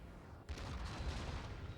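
Cannons fire at a wall in Empire Total War, a sudden distant boom that rolls into a rumbling, crackling volley.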